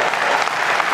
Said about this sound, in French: je mérite même pas ces applaudissements